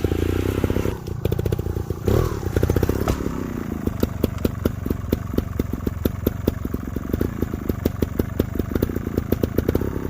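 A dirt bike engine idles and revs while the bike rocks over a log on its bash plate, with close rattling clatter and rhythmic ticking knocks over a steady engine drone.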